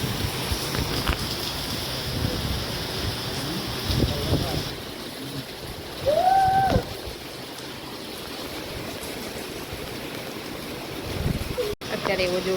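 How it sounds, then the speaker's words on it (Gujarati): Heavy rain with strong wind in a residential setting roars as a constant dense wash, with gusty buffeting on the microphone and a brief louder swell midway. "અત્યારે એવો જોરદાર વરસાદ ચાલુ છે"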